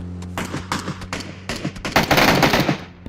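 Bursts of automatic gunfire from the PUBG video game, rapid loud volleys with short pauses, building into a dense continuous rattle of shots near the end, with no talking.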